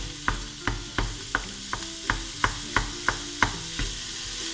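Onions frying on a high stovetop setting for shepherd's pie, a steady sizzle broken by about a dozen evenly spaced scrapes and taps of a utensil stirring in the pan, close and alone.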